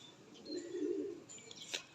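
A pigeon gives a single short, soft coo at close range, followed by a brief faint chirp, with quiet background in between.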